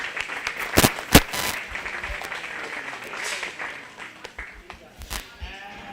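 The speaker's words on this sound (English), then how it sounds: "Let's give these young ladies a round of applause" An audience at a 4-H sheep show gives scattered applause, with loud close claps near the start that thin out, sheep bleating and a voice talking in the background.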